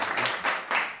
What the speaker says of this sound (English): Let's give a little applause